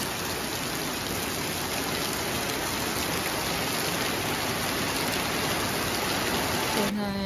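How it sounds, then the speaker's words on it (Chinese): Heavy rain falls on a rainy day in Kaifeng as a steady, dense hiss of drops that holds at an even level throughout, with a slight change in the sound just at the end. "大雨开始了"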